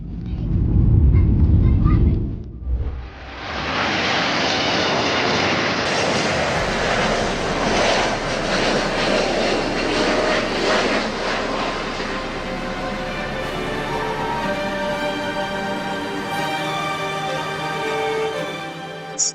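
A fixed-wing airplane lands with a loud, sustained engine roar and heavy rumble, broken by a brief dip early on, then a continuous rushing drone that holds steady at close range for the rest of the clip.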